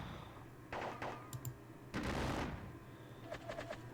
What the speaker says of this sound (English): So far, we're just going to exchange gunfire from the woods and into them.